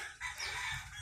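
A gamefowl rooster crowing once on a game farm, a brief faint call at a distance over light background noise.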